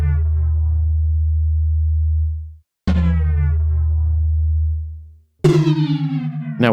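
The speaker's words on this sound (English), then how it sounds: "we might be better off with just a sine wave for this one" Three steady pure tones, each held for a couple of seconds with brief silences between; the last one sounds brighter and slightly buzzier.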